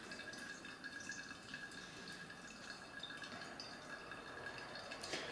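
Hot water trickling through ground ginger coffee in a brewing filter, a steady close run of drips and liquid filling a vessel below, with faint glassy clinks and no talking.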